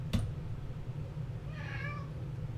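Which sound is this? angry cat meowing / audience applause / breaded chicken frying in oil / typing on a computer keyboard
angry cat meowing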